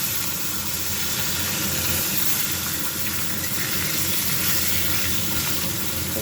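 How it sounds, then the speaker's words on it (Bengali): Fish frying in a pan after mustard and poppy seed paste has been added, giving a steady, even sizzle and hiss throughout, close and continuous with no talk. "মাছটা ভেজে নিই।"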